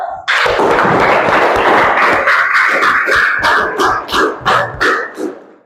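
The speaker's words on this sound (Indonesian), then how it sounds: "Kita tepuk tangan dulu." A class applauds, starting with a dense burst of clapping that turns into slower rhythmic claps and fades out over a few seconds.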